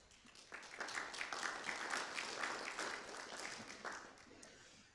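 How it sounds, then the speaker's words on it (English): A conference audience at an SDR event applauds a speaker: soft, distant clapping rises quickly, holds for a few seconds, then eases off, with some speech nearby. "Please give Henning a warm applause."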